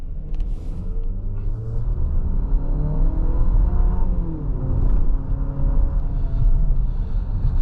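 A 2026 Infiniti QX60 SUV's VC-Turbo engine rumbles loudly and rises in pitch as it revs in sport mode, a deep sustained roar close by that swells and settles without any talking.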